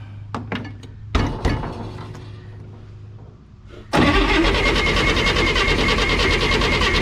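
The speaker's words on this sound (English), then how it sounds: "motor spins over. Of course, it doesn't have no fuel, so it's not going to start right now." After a few clunks and knocks, a car engine with no fuel cranks over on the starter without catching, making a loud, continuous churning drone for the last three seconds.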